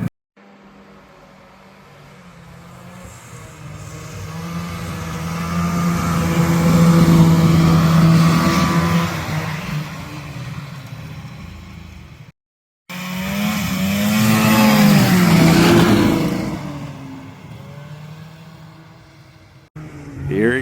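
An old Polaris Colt snowmobile, revived after twenty years, rides on snow with another sled. Its two-stroke engine swells to a loud, buzzing peak, cuts out briefly, then roars up and fades again.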